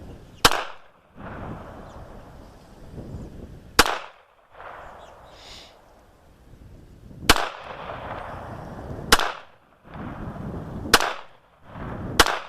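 A Bulgarian Makarov pistol in Soviet 9x18 caliber fires six sharp, loud shots outdoors, spaced a few seconds apart, with wind rushing against the microphone between them.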